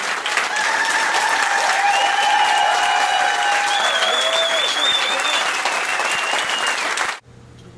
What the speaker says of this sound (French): Je refuse que vos applaudissements ne s'adressent qu'à moi.